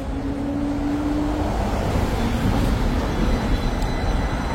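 A tram rolls past on a Central Hong Kong street, a loud, steady rumble of wheels on rails that holds close for several seconds over general traffic noise, with a brief high squeal early on.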